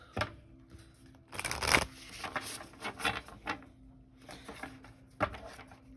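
Cards shuffled by hand at close range during a card reading: repeated riffling bursts and soft slaps in an uneven rhythm, some louder than others, with no talk.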